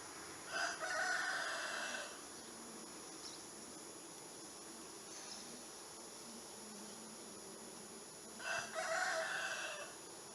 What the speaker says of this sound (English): Mr. Rooster!